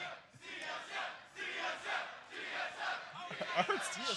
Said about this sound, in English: Peter, when you were competing, you had to hear both pro TSM chants and anti-you TSM chants